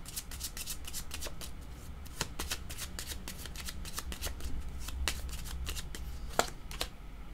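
Tarot cards being shuffled by hand in a steady run of crisp riffles and slaps, close and fairly quiet, with no talking.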